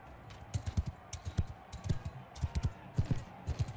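Horse hooves gallop in Mount & Blade II: Bannerlord, a steady rapid rhythm of low thuds, moderately loud and close, over faint background ambience.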